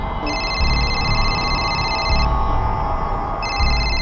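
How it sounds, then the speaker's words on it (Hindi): A telephone rings in two long electronic trills separated by a short pause, heard over a busy background murmur. "भाभी जी का फोन है"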